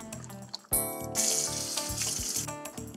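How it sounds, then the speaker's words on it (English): Hands swishing and splashing in a bowl of soapy water in a home kitchen, a steady close run of wet sloshing and dripping that starts suddenly after a brief quiet moment and continues without talk. "I gotta go wash my chicken fingers. I've set up a soapy bowl of water in here."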